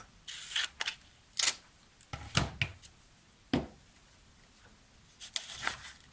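A few crisp, close snips of scissors cutting through double-sided tape, separated by pauses and light handling noises.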